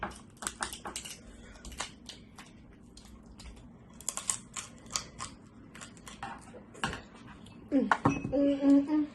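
Scissors snip repeatedly in quick, uneven bursts up close, followed by a brief voice near the end.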